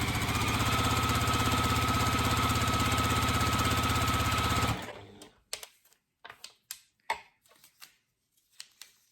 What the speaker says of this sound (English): So I'll just quickly stitch these all up.